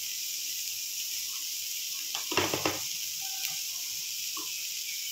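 Spices fry in a pan under a steady, close sizzling hiss, with a short burst of scraping stirring strokes partway through.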